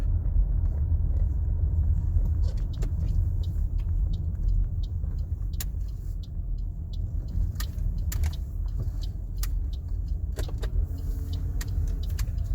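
A 2006–2017 Toyota Camry driving on a road after its mass air flow sensor was cleaned: a steady, close engine and road rumble with scattered light clicks and rattles inside the cabin.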